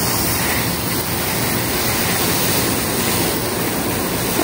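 Steady rush of water poured onto two potted olive trees in hot weather, a continuous broadband splash and spray holding even and loud throughout with no pauses.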